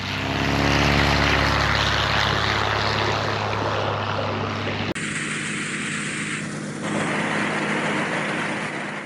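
A propeller airplane flies near a glacier in Alaska, a loud steady engine drone with a droning, throbbing quality that stays close and continuous throughout.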